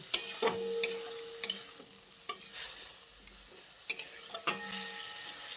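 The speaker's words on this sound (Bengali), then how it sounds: "তারপর আবারও সব কিছুকে একসঙ্গে নেড়ে চেড়ে মিশিয়ে নিচ্ছি।" Drumstick flower (sajne) vegetable mixture stirred in a pan: repeated light scrapes and taps of a spoon at an uneven rhythm, close and fairly quiet, over a soft sizzle.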